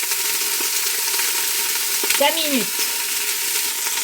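Duck cooking in a pan with clementine juice to come, a steady loud sizzle throughout while a voice speaks briefly partway over it.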